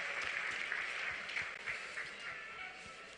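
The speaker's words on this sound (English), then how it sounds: "One more time, a round of applause for the Honorable Finance Minister." Audience at a youth dialogue with Ghana's finance minister gives a sustained round of applause, a dense wash of clapping that fades slightly toward the end.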